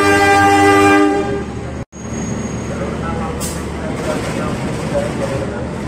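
An electric commuter train's horn blasts up close at Jatinegara Station, then the heavy rumble and clatter of the train rolling past fills the air, loud and continuous.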